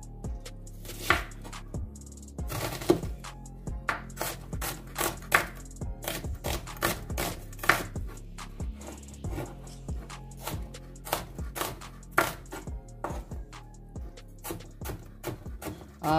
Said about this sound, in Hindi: प्याज काट काट के उसमें ऐड करते जाएंगे